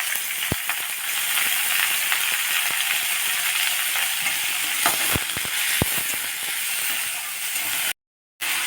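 Finely chopped large onion fries in a pan for a makhana gravy, a continuous broad hiss and sizzle with a few sharp clicks and pops, briefly cutting out near the end.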